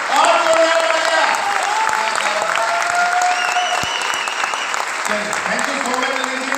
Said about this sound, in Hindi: थैंक यू और जोरदार तालियां।